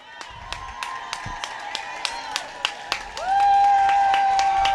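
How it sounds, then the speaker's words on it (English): At a U.S. Masters Spring Nationals swim meet in Irvine, a crowd cheers and claps for a swimmer in the women's 50 backstroke: scattered sharp claps ring through an echoing natatorium, then a sustained whistle-like tone rises over them. "Cheer her on."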